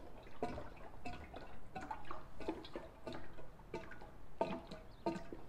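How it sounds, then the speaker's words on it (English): Red full-strength heavy-duty antifreeze is poured into a Hobart G-261 welder, heard as faint, irregular liquid drips and glugging splashes against a quiet background. "some full strength heavy duty antifreeze I'm gonna dump in here"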